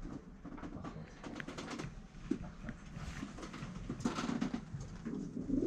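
Homing pigeons in a breeding loft, housed in pairs in nest boxes, give soft, low coos through a faint, cluttered background with scattered light clicks and shuffling, the cooing growing somewhat fuller toward the end.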